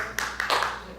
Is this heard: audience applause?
yes